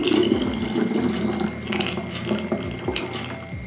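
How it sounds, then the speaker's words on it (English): Homemade raspberry syrup pours into a glass jar, a close, continuous liquid gurgle and trickle with small clinks, running steadily for a few seconds. "So let's pour into our jar."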